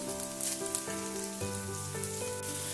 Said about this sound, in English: In goes a teaspoon of chopped garlic and a half a teaspoon of ginger and a 5 to 6 slit green chilies and lots of curry leaves.